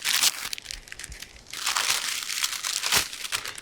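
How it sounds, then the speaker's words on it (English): Paper crinkling and rustling close up in several bursts as a sheet is handled and folded. "You take your piece of paper, fold into four."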